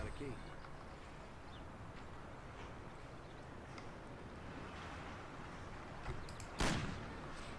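A single sharp gunshot rings out near the end in the Mafia video game, loud and abrupt over steady wind-like ambience, following someone talking throughout.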